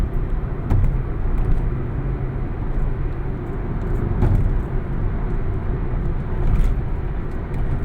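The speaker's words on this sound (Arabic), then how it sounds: "العربيات الناحية التانية بتمشي بجانب الكوبري." Cars travel alongside a bridge under construction on the Alexandria–Cairo agricultural road near Kafr El Zayat and Tanta, giving a continuous traffic rumble with a few louder swells as vehicles pass close by.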